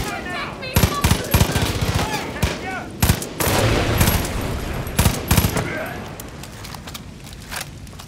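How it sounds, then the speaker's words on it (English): Rapid bursts of gunfire and sharp explosive blasts crack through a Far Cry 5 firefight, loud and irregular, clustered in quick volleys with quieter gaps between and a rumbling tail after the biggest hits. "He didn't expect that explosion behind him"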